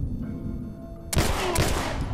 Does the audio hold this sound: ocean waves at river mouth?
no